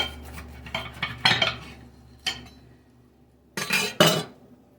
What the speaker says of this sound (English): So I'm gonna cut this beautiful, beautiful sandwich.